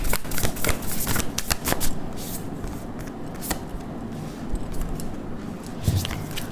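Tarot cards are shuffled and drawn from a deck in a string of quick, close riffling and snapping bursts that come thick at first, then thin out into softer handling and a few sharp flicks.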